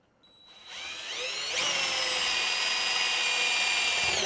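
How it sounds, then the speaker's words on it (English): A power drill bores a pilot hole in wood for a Macintosh Performa test bench, its motor whining up to a steady high pitch and holding there, loud and close, with no talk. "Just gonna drill a pilot hole for that one."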